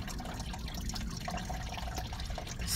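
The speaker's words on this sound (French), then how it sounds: "L'eau elle coule, tu vois, elle coule tranquille." Coolant drains from the water pump of an Opel Zafira 1.7 CDTI, a continuous close trickle and splash with small irregular drips.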